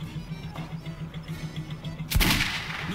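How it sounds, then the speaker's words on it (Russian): A steady low hum runs until a single sharp gunshot in the video game Metro 2033 Redux cracks out, followed by a brief ringing decay. "выстрел."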